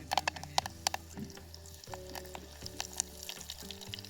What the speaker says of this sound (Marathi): आता कढीपत्ता टाकून घेते.